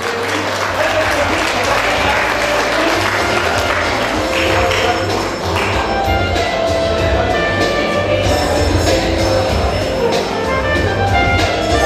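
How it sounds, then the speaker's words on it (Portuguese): Loud, sustained applause fills an anniversary award ceremony hall as an honoree is called up, a thick continuous wall of clapping from a large crowd with low rumbling underneath, steady throughout with no break. "Para o aplauso de todos."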